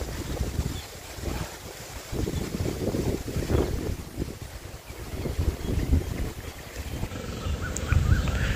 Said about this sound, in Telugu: చూడండి ఎంత గాలి వేస్తుందో